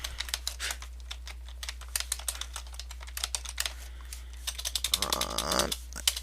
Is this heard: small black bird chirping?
no